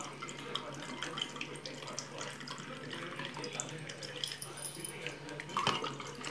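Ice water pours into a tumbler of ice cubes, mint juice and squash, a close, gurgling trickle with light splashes and a faint voice in the background.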